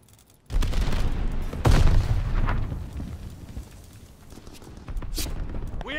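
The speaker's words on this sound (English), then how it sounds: "Tossing grenade." Grenade blast and gunfire in Call of Duty Vanguard team deathmatch: a sudden loud burst followed by a heavier booming explosion, rumbling decay, then scattered shots returning near the end, with no talk.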